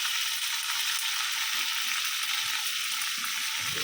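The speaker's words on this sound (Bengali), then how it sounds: "রান্না হচ্ছে শাক চচ্চড়ি" Shak chorchori, a leafy greens dish, cooking in a pan, giving a steady close hiss of frying with faint soft stirring knocks underneath.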